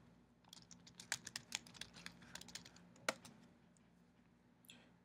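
Quiet keyboard typing, a quick irregular run of clicking keystrokes with one sharper tap, then a pause and a final soft key press.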